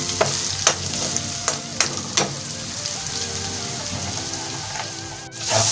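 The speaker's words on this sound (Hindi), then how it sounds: "इसको भूनेंगे अच्छे से, मसाले को भूनेंगे।" Coarsely cut spice masala frying and being stirred in a pan for an aloo palak curry, a steady close sizzle broken by several sharp scraping strokes of the spoon early on, then a quieter hiss.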